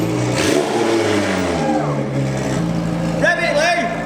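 An impounded car's engine revs up loudly and close, its pitch rising and falling in surges, while people talk over it.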